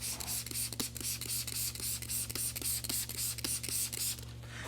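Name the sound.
spraying soapy water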